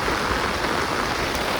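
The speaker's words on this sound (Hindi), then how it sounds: "जैसे ही बारिश शुरू हो गई थी" Rain falls steadily on an open farm field, a dense even hiss with no distinct drops or voices, filling the whole brief moment.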